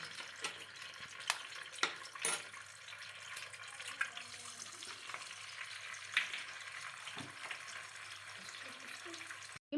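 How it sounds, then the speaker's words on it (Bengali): Eggs frying in hot oil in a pan give a steady, close crackling sizzle throughout, with a few sharper pops and spatters over the constant hiss. "প্রথমে মালাদি ডিমটাকে ফ্রাই করে নিচ্ছে"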